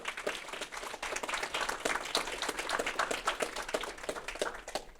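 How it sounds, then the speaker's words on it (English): An audience at a county climate change conference applauds the organizers, a steady wash of clapping from many hands, fairly faint and distant, continuing throughout. "please give them a quick round of applause"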